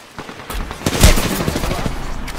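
Gunfire in the video game Apex Legends, with rapid bursts of automatic shots crackling over one another, loud and close, and a heavy blast near the middle.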